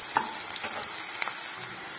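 Onions fry in a pan for chola masala, giving a quiet, steady sizzle with a few sharp scrapes and clicks from stirring, and no talking.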